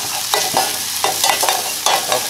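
Garlic, ginger and chili fry in a pan, a steady loud sizzle broken by several quick stirring scrapes close by.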